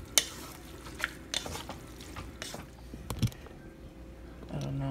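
Quiet scraping and clinking of a spoon stirring spaghetti sauce with grated cheese in a pot, with soft sizzling and occasional sharper taps against the pot's sides.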